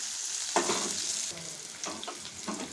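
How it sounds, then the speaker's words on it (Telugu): Onions frying in a pan with cumin seeds for a spiced ivy gourd curry, a soft continuous sizzle broken by a few scraping stirs of a spoon, close and fairly quiet with no talking. "ఆనియన్స్ కూడా ఫ్రై అవ్వాలండి"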